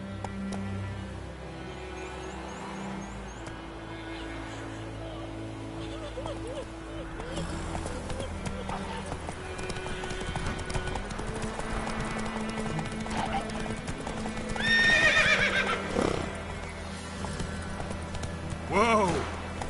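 A horse in The Witcher 3 gallops with a continuous rhythmic clip-clop of hooves under a game soundtrack, and two short neighs rise near the end. Some talk is heard along with the hooves.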